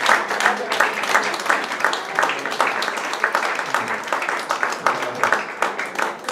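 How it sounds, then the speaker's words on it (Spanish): Audience at a poetry evening at Café Gijón claps to welcome a speaker, a steady patter of applause held at moderate level throughout, with a few voices faintly audible in the room. "Un fuerte aplauso para Francisco Delgado."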